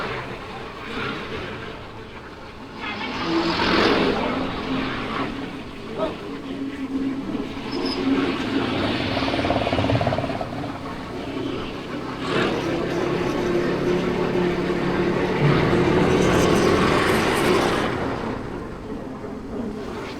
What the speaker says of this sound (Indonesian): Suara raungan mesin kendaraan saya juga terdengar